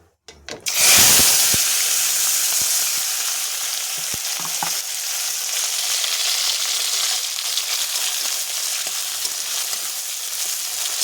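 Dried chilies, ripe chopped tomato and chopped onion hit a hot pan over cumin seeds, bursting into a loud, bright sizzle that settles into steady, close frying with occasional stirring clicks.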